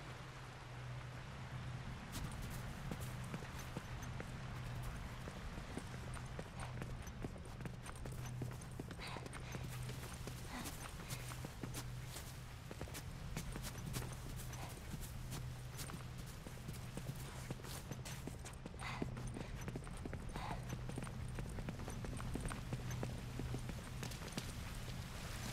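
Soft, steady hoofbeats of a horse in The Last of Us Remastered clop along continuously at a walking pace under a constant low hum and faint hiss, quiet and somewhat distant.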